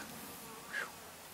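A brief buzzing of honey bees rises and passes close by at a hive around 5 o'clock, standing out over a faint steady background hum.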